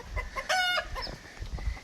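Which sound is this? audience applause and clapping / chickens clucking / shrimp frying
chickens clucking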